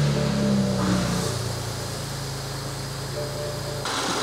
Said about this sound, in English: You can hear a little bit of gearbox clatter right here.